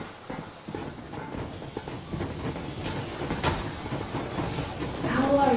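Steam locomotive running at full steam in the Metro Exodus video game, a continuous rumbling chug with rhythmic clatter and hissing that builds louder toward the end, with a voice speaking over it.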